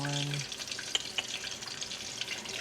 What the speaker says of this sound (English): So you're gonna let these fry until they all start floating up